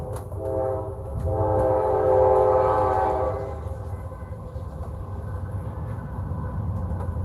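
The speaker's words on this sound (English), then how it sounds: "Another train." A train passes at a distance with a long, loud horn blast that fades, followed by a steady rumble of the rolling cars.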